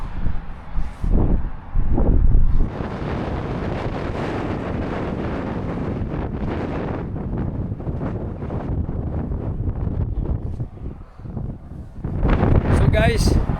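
Strong cold wind blowing through a mountain valley between Lake Tekapo and Queenstown, New Zealand, roaring in heavy continuous gusts against the microphone, with a person talking faintly underneath.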